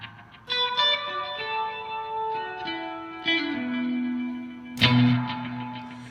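BOSS RE-202 Space Echo guitar pedal with echo heads blended together, electric guitar notes and chords ringing out and repeating in layered, fading echoes with reverb-like tails, one strong strummed chord near the end, no talking.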